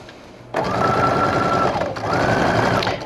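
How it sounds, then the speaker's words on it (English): A sewing machine with a 1/4 inch foot stitches the seam of an envelope closure pillow, a fast steady mechanical whir up close that pauses briefly and then resumes. "I'm wanting to stitch about 1/8 of an inch or so away from this side that we've turned"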